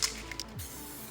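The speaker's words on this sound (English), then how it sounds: "And one more test spray right side up." An aerosol spray paint can, used to paint an engine, gives a short sharp hissing test spray at the start, followed by faint clicks and a low quiet tail.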